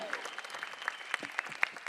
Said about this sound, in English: A round of applause for Karan Johar, one of the most loved personalities.